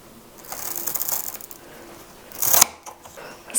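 Pruning shears cutting through a Philodendron sodiroi plant stem, with a few close, sharp mechanical clicks and snips, the loudest snap near the end.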